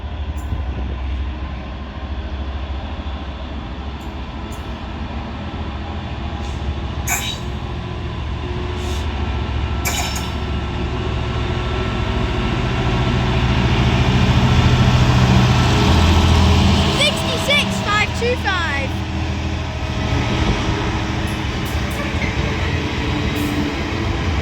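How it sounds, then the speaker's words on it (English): A Freightliner Class 66 diesel freight train passes through Didcot Parkway station on the Great Western Main Line, giving a loud, sustained rumble and engine drone that swells toward the middle, with wheel squeals and clatter as the wagons roll by. "Passing through there, catching me off guard, is a Freight Class 66 for Freightliner."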